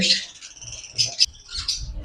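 Sharp, high chirps and squawks from small cage birds, including lovebirds and cockatiels, come in short bursts, a couple of bright calls standing out over a low murmur of background noise.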